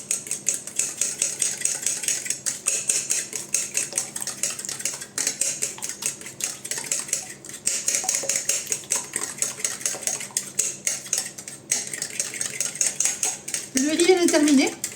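A whisk or spoon rapidly clatters against a bowl, beating crème fraîche into a cake batter bound for a Cosori air fryer, in fast rhythmic bursts with brief pauses throughout, close and fairly loud.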